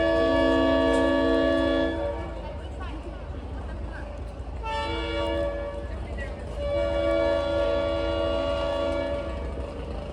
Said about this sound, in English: I'll probably drive you all nuts listening to that RS5T.